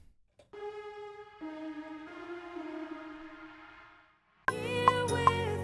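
A spacious, reverb-heavy synth lead built in Logic Pro plays a few slow sustained notes that swell and fade, then a brighter, louder burst of layered music cuts in near the end; no voices.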